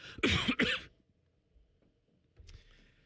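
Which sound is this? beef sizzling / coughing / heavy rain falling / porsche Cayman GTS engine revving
coughing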